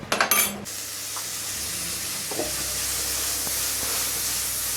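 Butter melting in a pan, a brief loud crackling burst at the start that settles into a steady, even sizzle and hiss, close and with no talking.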